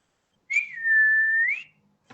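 A single clear human whistle, a sustained steady tone that bends up slightly at the start and end, lasts about a second alone in near silence, followed by a faint brief click.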